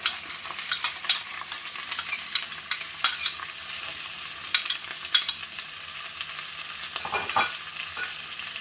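Carrots and peas frying in a pan, a soft steady hiss of oil with light intermittent scraping and tapping from stirring, fairly quiet and close.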